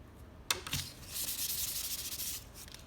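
Pastel scumbled across white paper: one sharp tap, then a steady dry rubbing scrape that lasts about two seconds and trails off, close and fairly quiet, with no talking.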